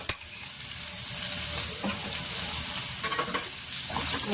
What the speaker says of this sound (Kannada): ಚೆನ್ನಾಗಿ ಫ್ರೈ ಇದಾಗುತ್ತೆ, ಖಾರಕ್ಕೆ ಬಿಡುತ್ತೆ ಎಣ್ಣೆಲ್ಲ ಹಾಕಿದರೆ.